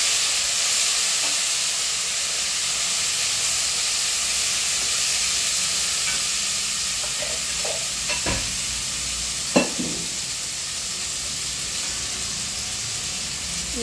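Coriander, mint and tomato sauté in a pan for restaurant-style chicken biryani, giving a continuous hissing sizzle broken by a few sharp stirring scrapes and clacks midway, with no voices.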